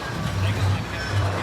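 A Dollywood roller coaster engages its lift hill, a steady low mechanical rumble and drone that stays fairly loud and continuous.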